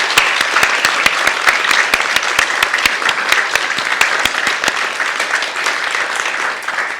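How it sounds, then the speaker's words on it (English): An audience at an entomology panel event applauds the panellists, steady dense clapping with a few sharp close claps standing out, continuing evenly to the end. "join me in giving a big round of applause to our panellists today"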